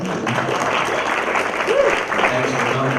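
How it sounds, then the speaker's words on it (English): A crowd gives a round of applause for museum staff at an honoring event, loud sustained clapping with cheering mixed in and some voices underneath. "So everybody give them a round of applause."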